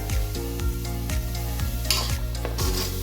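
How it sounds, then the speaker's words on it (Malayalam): Ginger garlic paste sautés in coconut oil for a vegetable kurma, sizzling loudly up close as a spatula scrapes and knocks against the pan in a steady, repeated stirring rhythm. "നമ്മൾ എടുത്തു വെച്ചിട്ടുള്ള ഇഞ്ചി വെളുത്തുള്ളി പേസ്റ്റ് അതിട്ട് ഒന്ന് വഴറ്റി എടുക്കണം"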